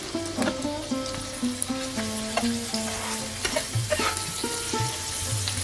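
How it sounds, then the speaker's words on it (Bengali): Chopped onion with green chillies and salt fries in a pan for watermelon rind bhaji, a steady sizzle carrying repeated scraping stirs and a few brief sharp clinks, fairly close and unbroken by voices. "এখন আমি ভালো করে পেঁয়াজটা ভেজে নিব"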